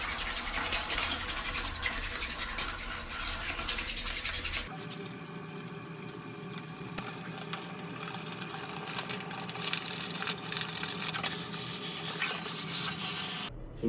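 A wet toothbrush scrubs an air conditioner filter in steady, close, continuous bristle strokes, with a change in tone about a third of the way through and no talking.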